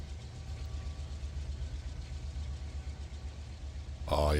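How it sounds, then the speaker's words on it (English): Big locomotive engines in the Run 8 Train Simulator game, hauling a container train, give a steady deep bass rumble throughout, with a louder layered engine tone coming in at the very end. "I got some good bass in those big engines. Can hear them in my headphones."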